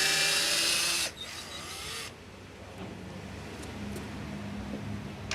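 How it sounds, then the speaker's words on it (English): A power drill backs screws out of the front panel of an SWF machine, a loud whirring burst at first, then quieter intermittent motor sounds over steady background noise. "going to remove the screws so that we can take the front panel off"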